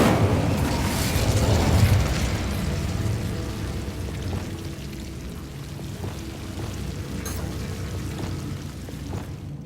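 A fire spell, Incendio, cast in the video game Hogwarts Legacy, a roaring burst of flame that swells loudly in the first couple of seconds and then settles into a steady crackling, rumbling burn.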